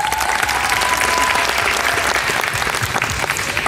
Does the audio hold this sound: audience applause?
yes